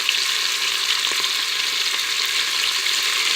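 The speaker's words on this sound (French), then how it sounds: "Une fois que vous avez mis votre bœuf à colorer" Beef browning in a hot pan, a dense, even frying sizzle at close range with faint stirring clicks, continuous throughout.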